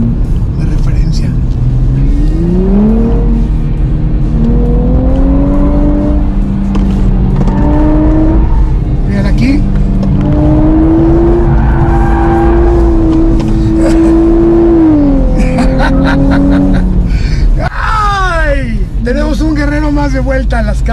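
A new Nissan Z sports car's engine revs and accelerates in a loud, steady roar running the whole time, with someone talking over it throughout.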